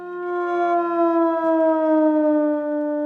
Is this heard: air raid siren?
yes